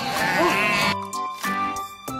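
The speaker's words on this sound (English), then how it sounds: "Izimvu, sheep." Sheep bleating in a farm-animal setting: a loud, wavering bleat fills the first second, followed by fainter, shorter bleats with quieter gaps between them.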